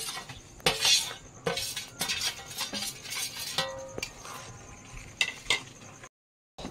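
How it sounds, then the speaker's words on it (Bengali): Ghee-roasted semolina with cardamom tipped into a pan and stirred, giving scraping spoon strokes and metallic clinks in an uneven rhythm, close and fairly quiet, with no talking. "এখন এই সুজিটা দিয়ে দেব।"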